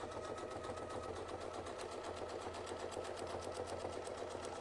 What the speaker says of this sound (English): I'm just going to move over, and we'll go ahead and sew the next one